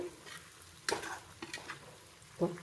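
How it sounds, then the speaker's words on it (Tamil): Fish pieces for pickle deep-frying in hot oil, a soft continuous sizzle with a few louder bubbling bursts and light utensil scrapes close by. "அடுத்த பேட்சும் நல்லா பொரிஞ்சிச்சு"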